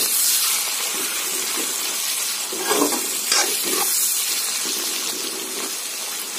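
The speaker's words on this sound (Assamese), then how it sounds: "আমি এইখিনি একদম কম জুইত ভাজিছো আৰু অকমান তেলটো বেছি দিব" Pumpkin pieces frying in plenty of oil over a low flame hiss with a steady, close sizzle, punctuated by a few gentle stirring clicks and scrapes midway.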